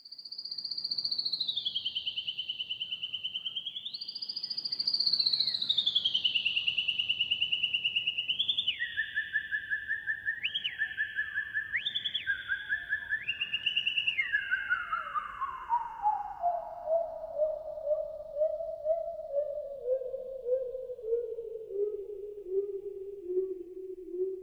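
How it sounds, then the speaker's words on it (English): A blackbird's song is reshaped through a theremin into a clear, sustained whistling tone that swoops and glides between pitches. It steps and slides downward until it ends in a low, pulsing warble. "That was actually Blackbird's song I was manipulating"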